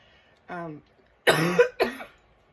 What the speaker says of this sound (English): I know I'm going to get thumbs down because I'm coughing.